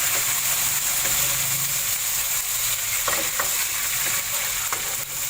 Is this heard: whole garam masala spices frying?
yes